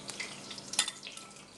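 Soft, steady sizzling and crackling of kadayif shredded pastry frying in hot oil, with a few brief bubbling pops, close by and fairly quiet.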